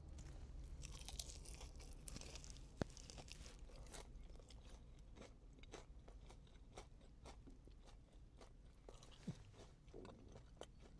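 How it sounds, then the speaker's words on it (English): Crunchy deep-fried karaage chicken from a packaged Japanese supermarket bento in Nagasaki, bitten and chewed up close, with a quiet run of crisp crunches and crackles in an uneven rhythm. "Karage chicken out of the deep fryer is always kind of crunchy."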